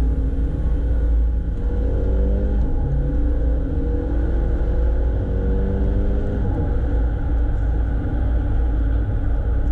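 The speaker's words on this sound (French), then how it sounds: "Ah j'adore ces boîtes à double embrayage qui claquent au passage de rapport." Mercedes CLA 250 AMG with a dual-clutch gearbox driving on small country roads, a steady loud engine drone and road rumble from inside the car, with pitch rising and dropping as it shifts; no talking.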